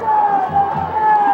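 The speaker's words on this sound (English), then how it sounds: "for a crowd that has not had a lot to cheer about, they are up on their feet, urging their team on" Football crowd at a South Jersey high school quarterfinal, Paulsboro versus Penns Grove, cheering steadily after a defensive stop, a sustained roar with a band or horn tone running through it.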